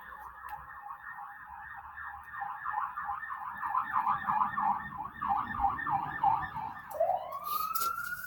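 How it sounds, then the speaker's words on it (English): An ambulance siren wails steadily in a rapid rising-and-falling pattern, fairly close and loud, then sweeps upward near the end, with traffic rumble underneath and no talking. "Nope, it was the ambulance."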